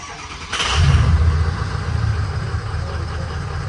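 A Ford 6.0 Powerstroke diesel with low fuel pressure cranks with a short click and starter whir, then catches and settles into a loud, steady, rumbling idle nearby, no talking.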